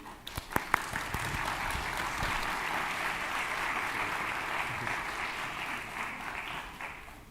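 An audience at a genetics conference applauds, steady moderate clapping that starts with a few sharp claps and holds evenly, heard from a distance in the hall.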